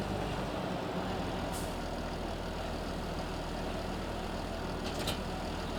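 Steady low rumble of an idling tractor engine in a farming game, continuous and even throughout, with faint brief clicks and no talk.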